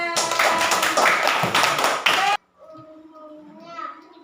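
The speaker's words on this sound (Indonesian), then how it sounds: "Tepuk tangan." Children in a classroom clap together in a dense burst of applause lasting about two seconds, then it cuts abruptly to quieter voices of children and an adult talking.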